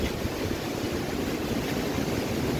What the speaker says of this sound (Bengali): বিরূপ আবহাওয়া, খুব বাতাস হচ্ছে